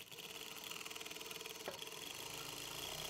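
A sewing machine runs steadily for a few seconds, stitching the quarter-inch folded edge of a churidar casing, a close, even mechanical whir with a rapid regular needle rhythm.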